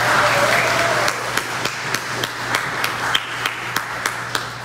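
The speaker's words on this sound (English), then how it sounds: "I would like to give Mr. Ryan Martin Burrow and the event booklets team a round of applause." An audience at an event bursts into a second of dense applause, which thins to a few scattered, evenly spaced claps that continue to the end.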